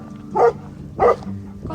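A dog at a small farm along a hiking trail gives two sharp barks about half a second apart. They are fairly close and clear over a low, steady background hum.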